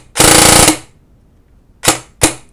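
A G&P custom M4 airsoft rifle fires loud, sharp mechanical shots. A longer rapid burst comes first, then two separate single cracks after a pause, all close and with no talking.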